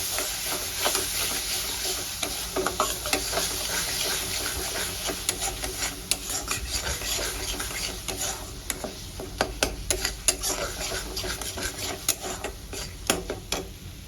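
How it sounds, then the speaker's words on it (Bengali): Spices sautéing in a pan for a masoor dal and egg dish make a continuous close sizzle, with repeated spatula scrapes and clicks that grow busier toward the end, and no voices. "আমি সব বেসিক মশলাগুলো দিয়ে নিয়েছি, এবার দিয়ে ভালো করে কষাতে থাকবো।"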